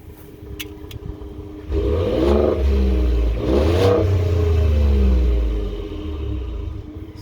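A Ford F-150 with the 3.5 EcoBoost engine and stock exhaust, before a resonator tip is fitted, idles low, then is revved twice in deep rising surges before settling into a steady rumbling idle.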